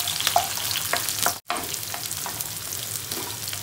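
Onion frying in a pan sends up a crackling, hissing sizzle with scattered pops, moderately loud and continuous apart from one brief cut, with no talk over it.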